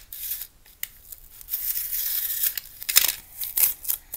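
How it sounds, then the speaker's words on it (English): Scissors trimming the sides of a homemade bunny toy, a close series of irregular snips and papery crinkles, some quick and clustered, others spaced out, with no talking. "I'll trim the sides a little shorter too."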